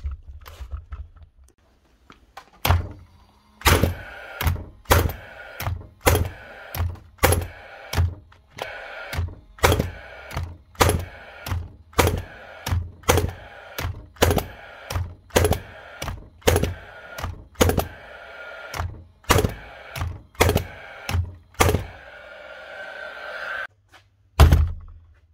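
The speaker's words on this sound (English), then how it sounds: "Nails in her and just give her a test out," A nail gun in for repair is test fired again and again, each shot a sharp, loud thunk, spaced about a second apart in a steady rhythm with quiet gaps between, close and alone.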